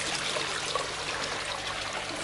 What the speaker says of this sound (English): there's our pond, and a couple of water features in it